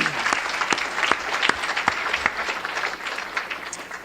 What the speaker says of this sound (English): I think a good round of applause is in order.